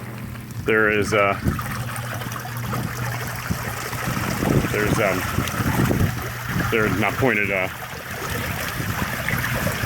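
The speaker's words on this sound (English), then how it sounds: "so that is the front water feature. It's going pretty well now." A front garden water feature runs steadily over rocks, with a constant splashing trickle fed by hoses, while someone talks over it.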